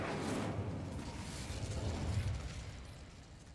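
Incendio fire spell cast in Hogwarts Legacy, a steady roaring burst of flame with low rumbling crackle lasting several seconds, moderately loud and fading slightly toward the end, with no talk over it.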